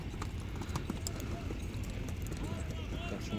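Several horses' hooves clip-clop steadily and close by, with a dense rhythmic patter, while people talk over them through a busy outdoor event crowd.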